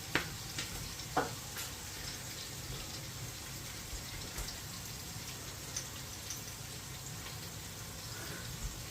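Butternut squash sizzles softly in a pan for a soup, a low continuous frying hiss with occasional light clicks and taps of a spoon, quiet and free of speech.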